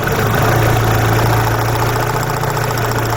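A car engine idles loudly up close, its steady low drone broken by an uneven, stumbling rhythm from a misfiring cylinder with a faulty spark.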